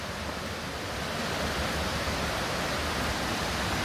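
Steady roar of the Rust and Vrede waterfall near Oudtshoorn, a dense, unbroken wash of falling water filling the whole clip at constant loudness with no talk.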